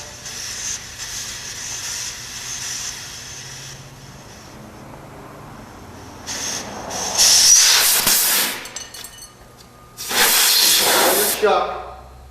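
Air hisses out of a tire valve being unscrewed on a dual wheel during a sealant kit job. After quieter handling noises come two loud, sharp bursts of hissing close by.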